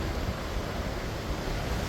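Sea waves washing at a warm seaside spot, a steady broadband surf roar mixed with wind buffeting the microphone, continuous and fairly loud throughout with no voices.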